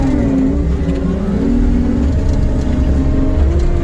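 A vehicle engine running steadily under load while its wheels spin in mud at a log-hauling site during mud season, a continuous loud droning rumble with slight pitch shifts and no talking.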